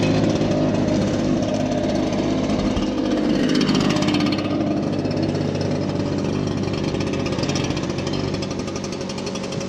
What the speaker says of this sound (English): when you're pulling the blower